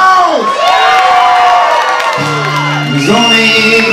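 Festival crowd at the Jüsseefest cheering and whooping loudly over an outdoor music stage, with shouts and voices rising and falling across the whole stretch and steady, dense sound throughout.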